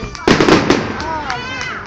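A big firework bursts loudly and close in Denver, Colorado, followed by a crackling, ringing decay over about a second and a half.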